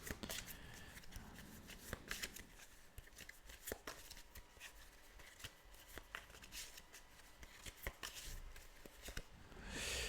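A deck of tarot cards is shuffled by hand in a quiet room, with a rapid run of soft riffling flutters and slaps continuing for several seconds.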